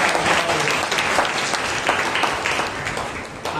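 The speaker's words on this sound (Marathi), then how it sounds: "प्रभूला आपण टाळ्या वाजवून त्याला" A church congregation applauds for the Lord, with loud, dense clapping from many hands that fills the room and holds steady throughout.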